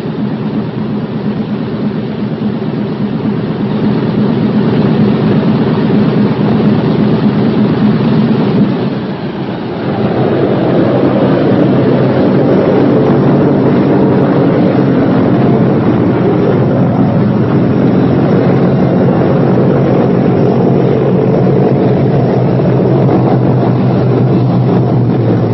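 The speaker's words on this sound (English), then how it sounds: "You can cut your inboards now. Check turbos off first." Four-engine Boeing B-17 bomber radial engines idling on the ground and running down after a run-up, a loud continuous low rumble that dips briefly midway, then resumes steady and droning.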